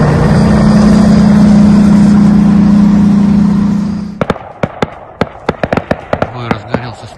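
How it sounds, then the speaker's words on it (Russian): A steady engine drone fades out, then a string of sharp, distant small-arms gunshots cracks out irregularly, some in quick pairs, during a night battle near Luhansk. "Сейчас оттуда слышны выстрелы из стрелкового оружия."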